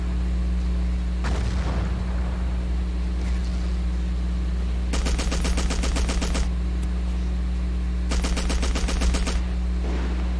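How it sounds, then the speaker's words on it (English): Battlefield 1942 video game gunfire: two long bursts of rapid automatic machine-gun fire plus a couple of single heavier shots, over a constant low engine-like drone, with no voices. "I pulled the trigger too fast on that"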